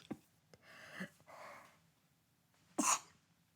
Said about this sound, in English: oh my gosh, a sneeze is coming